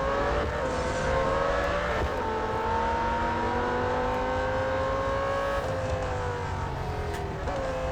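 Lamborghini Huracan engine roaring steadily in the Real Racing 3 racing game, loud and continuous with pitch climbing and dropping through gear shifts, with no voices over it.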